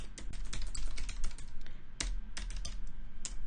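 Fingers tap on a computer keyboard nearby, a quick irregular run of crisp key clicks that pauses briefly and then resumes with a few more strokes.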